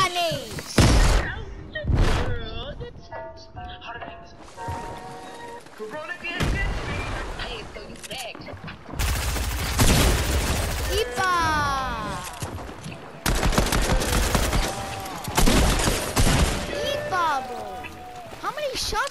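Shotgun and other gunfire in a shooter video game come as repeated heavy blasts and thuds, mixed with game effects and voices talking over much of the action.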